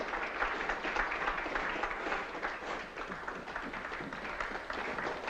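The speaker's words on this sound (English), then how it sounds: "Does the applause warrant an encore?" A theatre audience claps and applauds in a dense, sustained wash of many hands, steady in level and fairly distant, running without pause for about five seconds.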